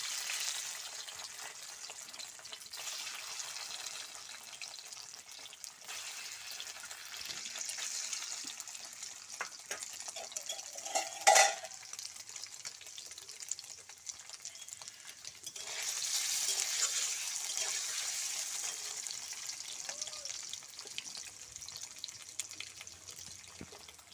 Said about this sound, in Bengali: তেল দিচ্ছি, পনিরটা একটু ভেজে নেব, ভেজে তুলে রাখবো পনিরটা।